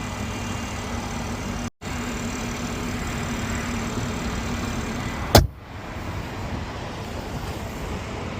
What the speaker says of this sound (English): Six-cylinder turbo, straight six-cylinder turbo, B52 engine